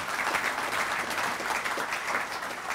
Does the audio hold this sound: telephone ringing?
no